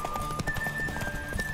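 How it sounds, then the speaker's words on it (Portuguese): Horse galloping in The Witcher 3 video game, with a steady, close run of hoofbeats under a sustained synthetic tone and faint background game sounds. "primeiro corridinho de cavalo"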